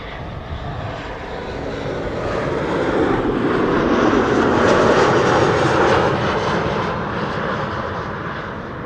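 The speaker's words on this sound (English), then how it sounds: "KLM flight 978, arrival from London City." A KLM passenger jet arriving at Amsterdam Schiphol Airport from London City roars overhead, its engine noise swelling loud and broad before easing off, with no other sounds over it.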